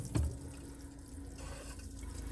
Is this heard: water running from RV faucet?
yes